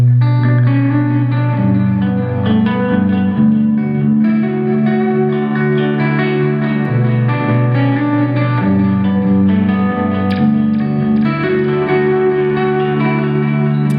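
An electric guitar intro riff from a song, with effects and reverb, plays continuously, a melodic line moving over low bass notes at a steady, moderate volume.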